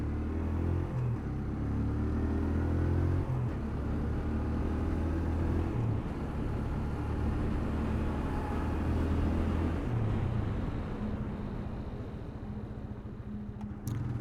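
A TVS Apache RTR 160 2V motorcycle rides along with a steady, loud engine drone and heavy wind rumble throughout. No one speaks.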